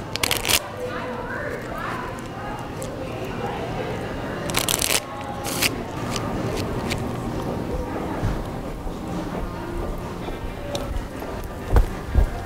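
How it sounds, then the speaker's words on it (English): Cards riffle and snap in repeated shuffles up close, crisp bursts of flapping paper, while a person talks over the background bustle. "You just shuffle the deck a couple times."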